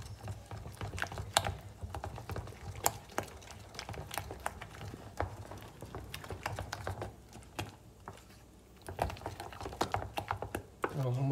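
Thick wheat-flour paste for Palembang pempek is stirred in a pot with the heat switched off, making a steady run of soft clicking, scraping strokes close by, with a person talking over it.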